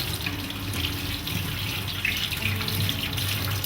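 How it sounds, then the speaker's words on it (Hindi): Hands are washed under a running tap: a steady, continuous rush of water splashing into a sink, close and even throughout, with no voices. "यहाँ साफ करने के बाद इसको पानी से धो लेंगे।"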